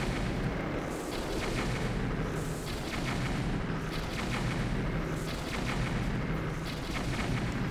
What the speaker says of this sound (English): Such explosions.